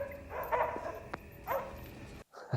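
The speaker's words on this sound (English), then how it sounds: "Oh, hell, the dogs are out." Dogs loose on the grounds of a wealthy estate in the 1986 film Crocodile Dundee bark and yip in a few short bursts at moderate distance, with a sharp crack in between and a brief silence near the end.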